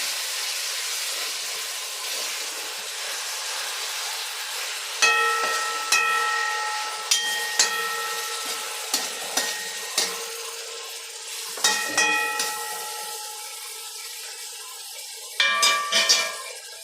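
Onions and garlic fry in a pan with a steady close sizzle, broken by several sharp clinks and scrapes as they are stirred at irregular intervals.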